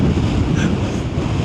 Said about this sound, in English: This is windy as anything.